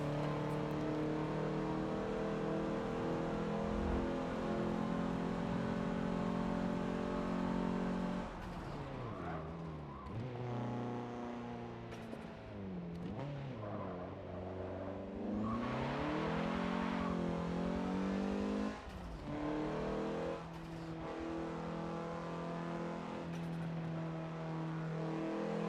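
A Dodge Omni racing in Forza Motorsport 7 with a manual gearbox and clutch, its engine droning steadily and then revving up and down through gear changes, loud and close with a brief tire squeal.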